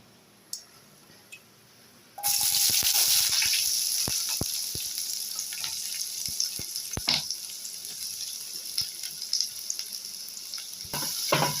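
Onions hit hot oil with cumin and peppercorns for a mushroom pepper gravy, setting off a sudden loud sizzle after a quiet start, then a sustained hiss broken by stirring clatter and sharp taps, with no speech.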